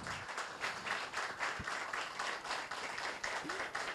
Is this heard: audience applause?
yes